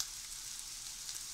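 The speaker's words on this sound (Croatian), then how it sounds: "Ispržio fino s lukom, sad stavio jedno jaje, omlet" Chanterelle mushrooms fry with onion and an egg in a pan, making a steady, close hiss of bright crackling sizzle that stays even from start to finish.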